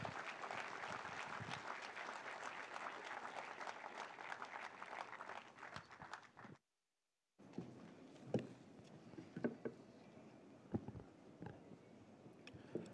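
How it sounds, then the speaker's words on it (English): An audience at a BCCI gathering celebrating the CSK champions applauds to welcome Jay Shah, dense sustained clapping for about six seconds, then a short silence followed by quieter scattered claps and crowd murmur. "Would you please greet him with a strong round of applause"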